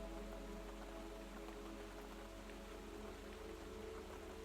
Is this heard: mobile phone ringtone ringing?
no